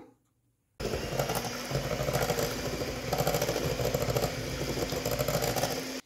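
An electric mixer whirs on after a brief quiet start, beating banana and oil for a moist banana cake batter with a loud, steady motor drone and a faint rattle, continuing without pause until it cuts off.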